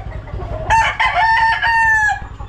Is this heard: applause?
no